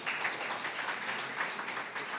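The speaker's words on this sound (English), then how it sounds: "Please give a big round of applause." Audience applause at a university alumni association anniversary celebration in Kenya, a steady even wash of clapping that holds at moderate volume for a couple of seconds with no talk over it.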